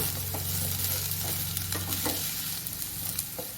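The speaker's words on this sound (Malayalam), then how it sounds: "അപ്പം നമ്മുടെ മുരിങ്ങയൊക്കെ ഇട്ട് കൊടുത്തിട്ടുണ്ട്. ഇളക്കി കൊടുക്കാം." Chopped drumstick leaves fry in a pan for a thoran, a continuous close sizzle with soft scraping and clicking as a spoon stirs them. A low steady hum sits underneath.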